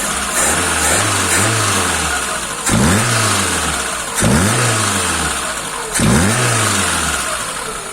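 A car engine fitted with a Solex 21083 carburetor with gas inserts idles, then is revved sharply three times. Each rev climbs and falls back to a steady idle, loud and close.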